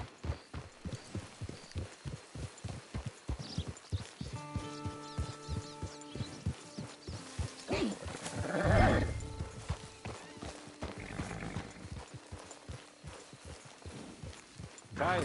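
Horse hooves in the Red Dead Redemption 2 video game clopping in a steady, even rhythm up close, with a brief whinny midway and game dialogue spoken over parts of it.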